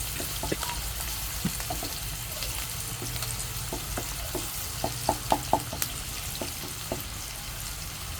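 Steady, soft sizzling of red amaranth leaves frying in a pan, with a few sharp crackles and pops toward the middle, close by and with no talking.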